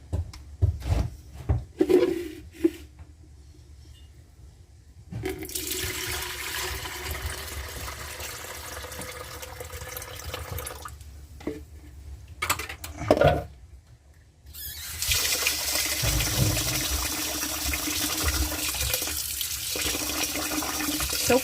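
Tap water runs into a basin while glutinous rice is washed, with on-and-off gushing flow, splashing and handling clatter between quieter pauses, no talk.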